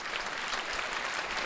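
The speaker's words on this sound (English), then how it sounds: "So let's give them a round of applause for supporting this event." An audience at a talk on MS and NMOSD research applauds, a dense, even wash of many hands clapping that holds steady and fairly loud for the whole stretch with no voices over it.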